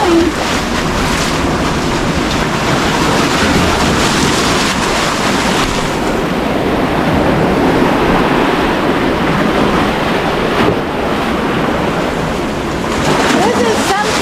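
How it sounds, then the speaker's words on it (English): Ocean waves break on a rough coast in a loud, continuous rush of surf, with gusts of wind buffeting the microphone throughout. "I can't hear you because of the waves"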